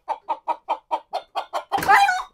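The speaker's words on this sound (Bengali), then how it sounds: "আর এখানে একটা মুরগি রাখছি খাওয়ার জন্য" A farm chicken clucks eight times in an even, close rhythm, then gives a longer, louder squawk.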